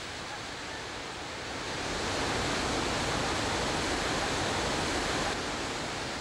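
A huge waterfall on the Nile, 400 meters wide and plunging 50 meters, gives off a dense, continuous rushing roar that swells slightly partway through and then holds steady.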